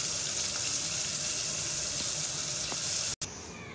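Breaded boneless chicken pieces for broast deep-fry in oil with a steady, dense sizzle that holds evenly throughout, broken by one brief drop near the end.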